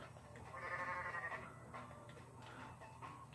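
An Italian dinosaur goat character in a goat video game lets out a single drawn-out bleat near the start, then quieter game ambience follows with no talking.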